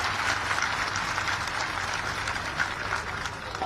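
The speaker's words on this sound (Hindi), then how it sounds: "तालियां बजाकर हम सब उनका अभिनंदन करें।" A large outdoor crowd at a statue unveiling ceremony applauds continuously, a broad steady roar of clapping heard from a moderate distance, holding level throughout.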